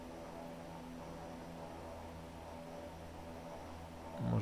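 An Antonov An-24B airliner in the FlightGear simulator hums with a steady droning engine tone and broadband rush as it speeds up, with a louder low thump at the very end.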